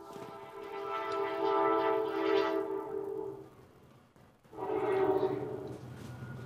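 A passing train sounds its horn in two long, loud blasts, with a short dip between them and a steady rumble under the horn.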